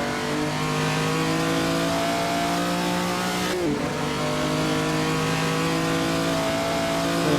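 Postwar 1948 race car engine droning steadily at high revs in an Assetto Corsa race, loud and continuous throughout, with a brief pitch dip midway as it shifts or brakes before climbing again.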